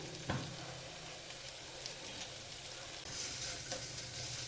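Bitter gourd fries dry in a pan with a faint, steady sizzle, broken by a few soft scraping stirs and a brief clatter near the start.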